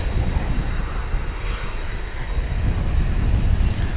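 A McDonnell Douglas MD-11 tri-jet airliner moving at DFW Airport produces a steady, loud, broadband engine roar. The sound sits at a moderate distance and stays even throughout, with no voices.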